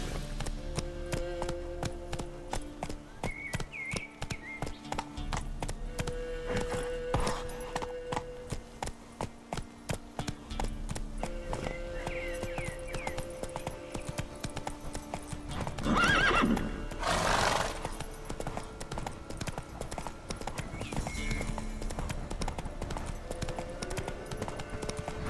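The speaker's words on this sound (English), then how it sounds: "Whoa there, Roach. Giddy up" In The Witcher 3 video game, a horse's hooves clip-clop in a steady rhythm, with a loud neigh partway through before the hoofbeats carry on.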